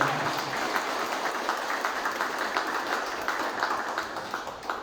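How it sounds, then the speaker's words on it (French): A ceremony audience applauding the Prime Minister at a property title handover for former sugar estate workers, a dense, steady wash of many hands clapping, sustained and fairly even for the whole stretch. "ceux qui nous donnent un grand applaudissement au Premier ministre"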